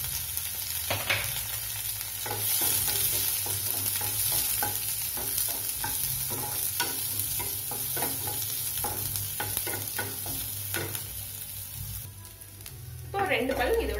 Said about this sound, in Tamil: இப்போ இந்த ஆயில்ல வெங்காயத்தை சேர்த்துக்கிறேன்.